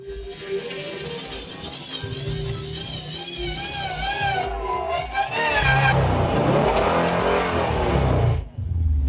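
The engine of an old ambulance abandoned in a forest runs loudly and continuously, its pitch rising and falling as it revs, then settling back toward idle.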